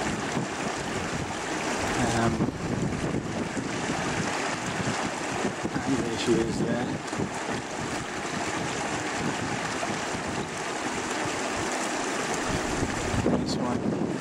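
Wind gusts buffet the microphone outdoors near bird nests, a rough, fluctuating rumble that stays constant throughout while a person speaks briefly.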